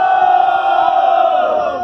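A large crowd at a rap battle cheers and shouts together, a loud, sustained roar with no clear breaks.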